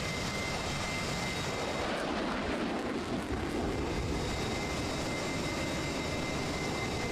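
Two F-16 Viper fighter jets take off at full military power, a loud, continuous roaring jet rumble that holds steady and swells slightly, heard from a distance without talk.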